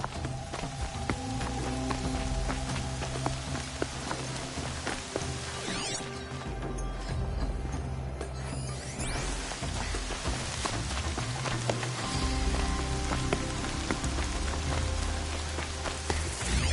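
Rain falling in the video game Horizon Zero Dawn, a steady dense patter of drops on surfaces throughout, with a few brief louder crackles in between.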